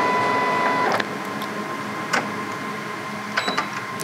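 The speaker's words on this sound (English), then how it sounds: "So we wake up the printer" A Canon LBP-series laser printer wakes up with a steady mechanical whir and hum, then settles into a quieter drone broken by a few soft clicks and ticks.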